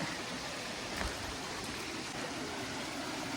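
A mountain stream flowing through jungle, a dense continuous rush of water close by, steady and loud, with no voices over it.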